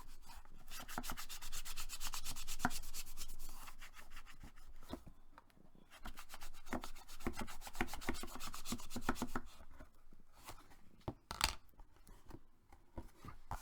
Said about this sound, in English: I'm going to take my tool and put it inside and just give it a good burnish.